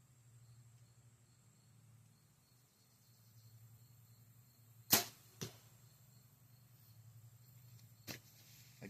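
A single arrow loosed from a bow strikes with a sharp snap, then two fainter follow-up impacts come after it, all against a quiet outdoor background with a steady low hum of insects.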